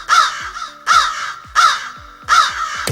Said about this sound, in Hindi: 14 कौवे चंदू की चाची के छत की मुंडेर पर।